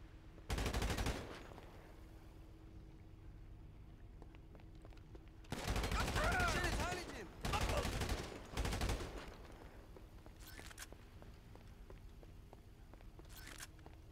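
Bursts of video game gunfire, a short volley near the start and heavier rapid bursts around the middle, loud against a quieter steady game background.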